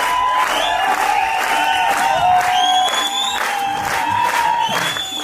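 At an award ceremony a crowd breaks into loud, sustained applause with cheering and whoops, the clapping dense and continuous throughout.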